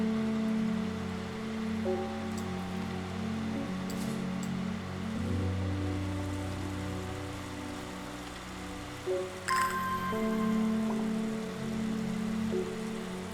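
Steady rain falls across a scene in the puzzle game Strange Horticulture, a soft, even hiss that runs through the whole stretch beneath sustained tonal background music.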